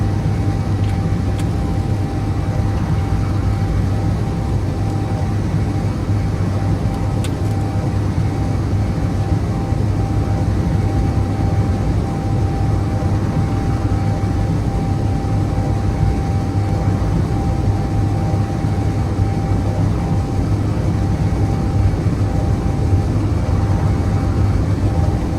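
Steady low rumble of a space shuttle orbiter climbing through the atmosphere in a spaceflight simulator game, a continuous dense drone with a faint steady hum above it, unbroken and constant throughout with no voices.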